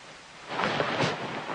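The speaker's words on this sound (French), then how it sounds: "C'est le son du tonnerre." Deep rolling thunder swells in after a quiet start and keeps rumbling loudly, with a hiss like rain beneath it and no voices.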